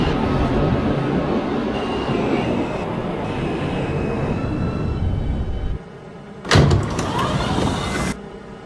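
A New York subway B train bound for Forest Hills 71st Avenue runs along the Queens Boulevard line, heard from inside the car as a loud steady rumble and rail roar. It drops briefly, then a sharp screech and clatter follow.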